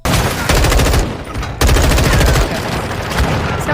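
Bursts of rapid automatic gunfire from a Warzone match, loud and dense, with two main volleys and scattered shots between them.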